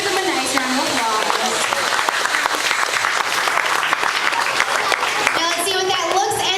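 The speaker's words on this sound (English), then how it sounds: "Let's give them a nice round of applause." Audience applause during the Backlot Tour at Hollywood Studios, a dense, steady crowd clapping with scattered cheers and children's voices, loud and continuous.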